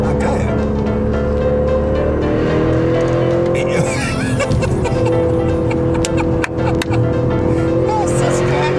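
On a race track, a car driving itself runs past at a steady engine hum with tire noise, while people talk excitedly over it.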